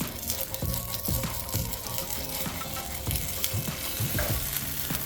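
Leftover mashed potatoes fry in a pan with a steady crackling sizzle. Close, repeated scraping and stirring knocks from a utensil sound over it, and no one speaks.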